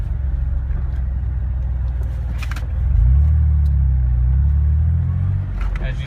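A lifted Jeep Wrangler JK on 35-inch tires accelerates hard, its engine note rising as it shifts up through the gears, a steady loud drone with a swell of revving midway, heard from inside the vehicle.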